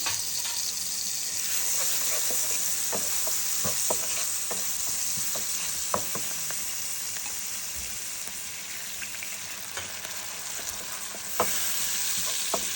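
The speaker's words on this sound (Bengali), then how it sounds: "পেঁয়াজটা ভাজা হচ্ছে, এখন একটু রসুন দিয়ে দেব" Onion and garlic frying in oil in a pan for an asparagus, prawn and mung dal dish, giving a steady loud sizzle throughout with scattered close clicks and scrapes of a stirring spoon.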